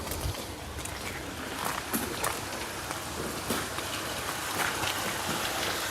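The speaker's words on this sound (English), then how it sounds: "You hear the water running through the mill here." Water rushing through a mill on the River Deben at Woodbridge, a steady broadband wash with faint splashes and patter throughout, moderately distant and continuous.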